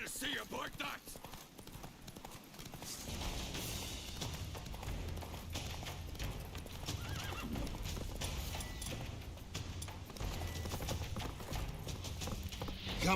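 Roach, a horse in the video game The Witcher 3, gallops with rapid, rhythmic hoofbeats and neighs, alongside game sound effects. Voices talk over it throughout.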